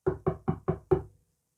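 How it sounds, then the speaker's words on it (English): Knocking on a house door: five evenly spaced, crisp knocks in quick succession, close and clear, then silence. "Peppa knocked on the door"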